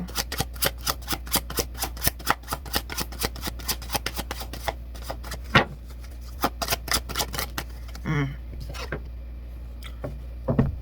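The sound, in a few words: shuffling a tarot card deck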